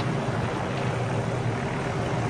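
A helicopter in ArmA 3 keeps up a steady, dense engine and rotor drone that holds even and loud throughout, as if heard from inside the cabin.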